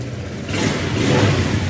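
A repossessed motorcycle with a quiet engine starts on a single press of the electric starter, a brief crank followed by a steady, close idle that rises slightly.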